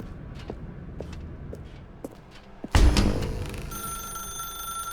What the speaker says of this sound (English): Pick up the phone and it will take us back home